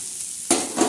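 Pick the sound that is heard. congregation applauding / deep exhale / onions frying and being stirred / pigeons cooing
onions frying and being stirred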